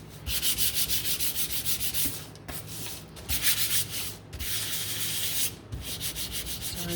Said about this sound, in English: I'm just gonna gently sand, and I might as well just sand these guys at the same time.